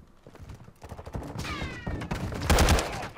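Rapid automatic gunfire in Call of Duty multiplayer, bursts of sharp shots building to a loud close volley near the end, with whiny game effects in between and no talking.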